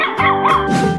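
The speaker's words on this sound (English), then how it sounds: "Dog." A dog gives a couple of quick, close, loud barks with a yipping, whining edge, all within about a second.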